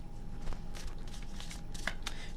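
Tarot cards riffle and shuffle in several quick bursts close by, soft papery flutters with brief pauses between them.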